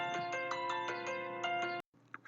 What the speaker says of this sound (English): The phone's always destined to ring when I make a video